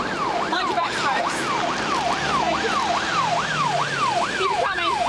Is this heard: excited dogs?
no